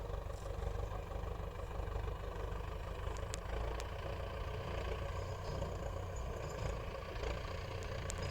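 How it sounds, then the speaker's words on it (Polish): A tractor engine rumbles steadily at low pitch near a rural cycle path in the Chełm district, a constant heavy drone, moderately loud and unbroken for the whole stretch. "Słyszycie dźwięk ciągnika."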